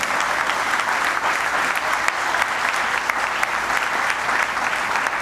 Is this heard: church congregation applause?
yes